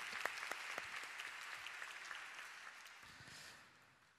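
A church congregation at a newcomers' worship service claps in thanks after a hymn, a faint spread of many hands that tapers off toward the end.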